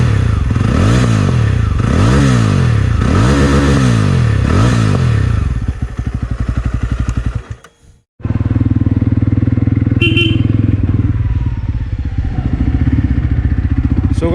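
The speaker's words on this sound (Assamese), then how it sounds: "আপোনাৰ ক্ৰেকল শুনিব পাৰে মানে পূৰা ফুটে মানে একদম পূৰা ক্ৰেকল ফুটি আছে ইঞ্জিনো যিমানে গৰম" A Jawa 42 BS6 motorcycle engine revs in repeated loud, rhythmic blips up close, then settles into a steady idle after a brief dropout.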